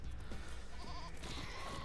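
Goats bleating in the video game Bombslinger, a few short nasal calls around the middle over a steady bed of game music and effects.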